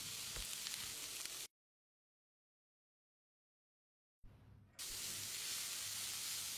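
Close sizzling of beetroot stir-frying in a hot pan, interrupted by a few seconds of silence, then the hissing sizzle resumes.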